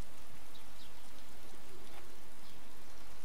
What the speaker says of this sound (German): Das Coole ist, es regnet unter Wasser.